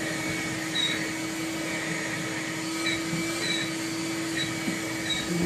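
A shop vacuum runs with a steady, continuous whooshing drone while sucking debris out of a GY6 scooter open-flow exhaust, with faint intermittent clicks and rattles over the constant motor tone.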